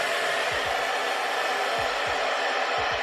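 Up close, a hair dryer roars in a constant, loud rush of air while drying hair, running unbroken for about three seconds before stopping abruptly.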